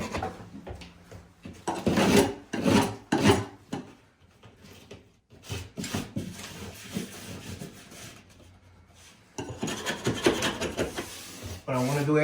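Scraping out a settlement crack in a ceiling: irregular, close, raspy scrapes and rubs in short bursts with pauses between, fairly quiet overall.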